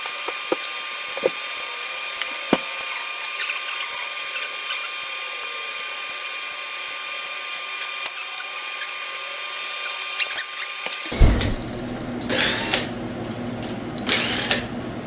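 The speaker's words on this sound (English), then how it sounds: "I'm gonna go through and break all the rod bolts loose" Connecting rod bolts are broken loose during teardown of a high-mileage GM 5.3 engine, with sparse metallic clicks and knocks, then a few louder bursts of ratchet or tool noise near the end, close by without speech.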